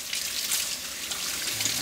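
Hot tap water gushes and splashes as a tobacco pipe is rinsed clean under the faucet, a steady close hiss with no break.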